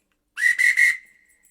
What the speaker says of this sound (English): Police whistle.